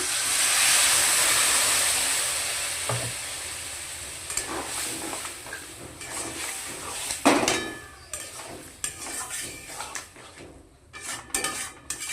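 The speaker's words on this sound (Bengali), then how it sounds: "দিয়ে দিচ্ছি সামান্য একটু জল" A little water splashes into a hot pan of black chickpea curry, setting off a loud burst of steamy hissing that gradually dies down, followed by intermittent clinks of utensils against the pan.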